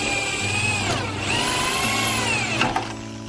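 A 16 mm bit drills through a door to fit a lock, giving a steady close whine with shifting pitch that dips and rises over a few seconds, ending with a couple of sharp knocks.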